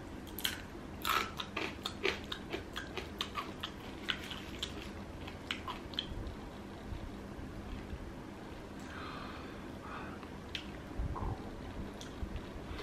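Close, quiet crunching and chewing of a crisp fried frog, with rapid bites early on that give way to softer, slower mastication.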